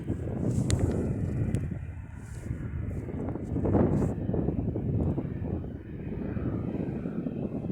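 Strong wind buffets the microphone in heavy, rumbling gusts that rise and fall throughout.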